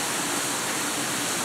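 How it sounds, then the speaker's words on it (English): A small waterfall at an outdoor village setting pours with a constant, even rushing hiss, moderately loud and steady, with no voices over it. "I don't know if you can hear, but they got a little waterfall."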